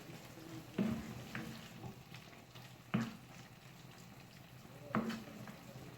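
Home-made kebab meat fries quietly in a pan, a soft continuous sizzle broken three times by the scrape and clack of a utensil stirring it, with no talking.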